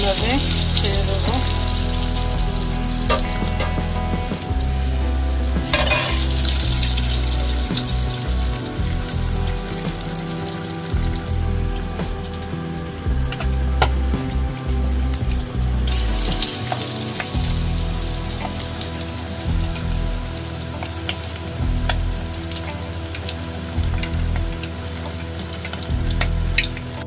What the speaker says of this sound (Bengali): তো গোল্ডেন ব্রাউন অবধি কিন্তু ভাজবো